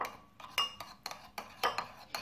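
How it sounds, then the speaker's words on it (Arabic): A small spoon stirs thyme into olive oil in a bowl, giving a run of sharp metallic clinks and scrapes against the dish at an uneven rhythm, close and fairly quiet, with no talking. "ناخذ هاد المعلقه صغيره ديال الزعتر غنديروها في هاد الزيت البلديه"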